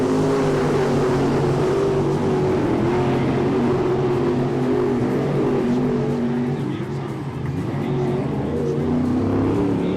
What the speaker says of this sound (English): they're setting a blistering pace in this heat race.